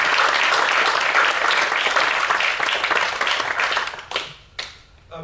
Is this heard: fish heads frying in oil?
no